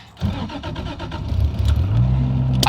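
A 1992 Toyota Cressida with an 820-horsepower engine fires up close by: a sharp catch, a rough pulsing idle, then a rising, swelling rev that holds loud to the end.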